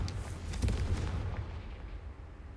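Confringo blasting spell going off in Hogwarts Legacy, a single deep explosive boom with a rumbling tail that fades over a couple of seconds, close and moderately loud, with no talking.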